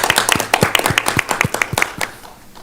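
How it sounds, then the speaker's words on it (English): A short round of clapping at a school board annual meeting after a vice chair is elected, a small group's distinct, fairly rhythmic hand claps that thin out and fade after about two seconds. "Round of applause"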